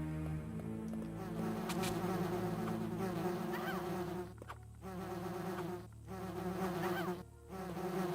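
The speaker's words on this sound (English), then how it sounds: "Uh-oh, bees!" Swarm of bees buzzing in the survival-horror game Resident Evil: Deadly Silence, a steady loud drone with layered wingbeat tones over low game ambience, dipping briefly twice before swelling back.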